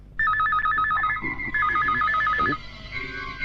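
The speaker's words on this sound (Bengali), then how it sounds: "এই সময় আবার কার ফোন?" A telephone rings with a warbling electronic trill, two bursts of rapid alternating tones, loud and close, with faint rustling underneath.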